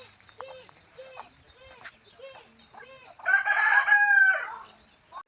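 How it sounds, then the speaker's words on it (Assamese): A hen clucks in a rhythmic series of short calls while leading a brood of ducklings, then gives a longer, louder drawn-out call, close and clear. "এজনী কুকুৰাই কিদৰে হাঁহ পোৱালিকেইটা লৈ ফুৰিছে।"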